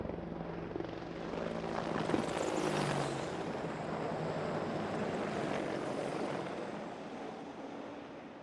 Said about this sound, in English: a squadron of Army Apache helicopters flew over the battlefield